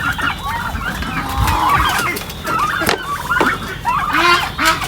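Turkeys and breeder fowl on a farm, a busy close flock of overlapping clucks, gobbles and honking calls with a few sharp knocks, lively and continuous.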